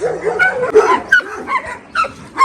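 Several dogs, including Dobermans, bark and yip in quick, overlapping bursts nearby, with some whining mixed in.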